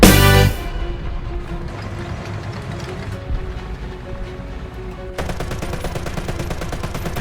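A tank gun firing in War Thunder from an ARL-44, a sharp loud blast at the start decaying into rumbling battle ambience, then a second burst of rattling noise near the end.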